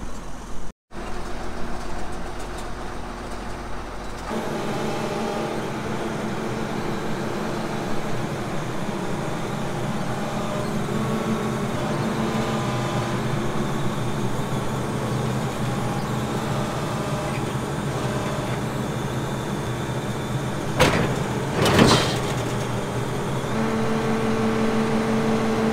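A combine harvester running in a sunflower field for a test cut, a loud continuous engine and machinery drone with a brief clunk partway through.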